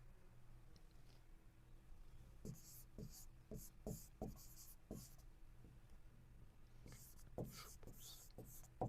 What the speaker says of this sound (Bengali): আবার লিখে দিচ্ছি